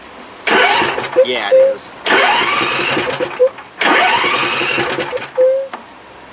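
A lowered MTD lawn tractor race build, raised on a jack, has its engine cranked over three times, each a loud whirring turnover burst of about a second and a half with short pauses between, and a voice speaks briefly.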